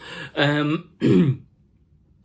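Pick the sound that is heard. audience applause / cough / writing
cough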